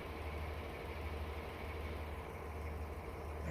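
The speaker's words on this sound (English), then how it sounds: "You can hear the engine settling down now." Class 253 HST with a Valenta diesel engine in Train Simulator, idling after settling down: a steady, continuous low rumble with an even drone and no breaks.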